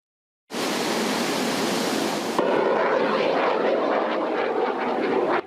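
An OH-58D tactical helicopter roars loudly and continuously during an army exercise, a dense rushing engine and rotor noise that starts abruptly and holds steady.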